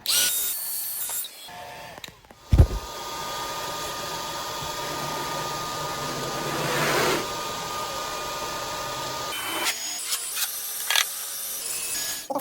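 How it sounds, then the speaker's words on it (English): A hair dryer drying a wall patch blows with a steady, whooshing hum for several seconds, starting and stopping with brief clicks and a bump at the switch-on. "I'm gonna get this hair dryer on."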